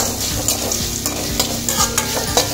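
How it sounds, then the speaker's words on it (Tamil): Onions being stirred and sautéed in a pan with salt while cooking a mutton pepper fry, giving a steady sizzle with repeated scraping strokes of the spoon, close and clear with no talking. "நல்லா வதக்கி வச்சுக்குவோம் வெங்காயத்தை"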